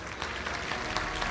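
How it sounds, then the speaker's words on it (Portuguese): A church congregation applauds during a sermon, a steady, fairly quiet wash of many hands clapping together with no voices over it. "Pode aplaudir, aplauda Jesus."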